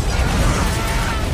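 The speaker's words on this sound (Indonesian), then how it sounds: "ledakan pun terjadi di dekat" Bomb explosion in a film scene, a thick roaring burst of broadband noise that fills the whole short moment, loud and close with no distinct onset or tail.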